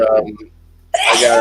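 A person sneezes sharply and loudly, close by, right after someone speaks briefly in a casual podcast conversation.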